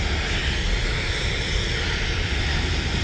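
An airplane engine roars loudly and steadily at close range from the viewing park at Manchester Airport, a broad continuous rush with no speech over it.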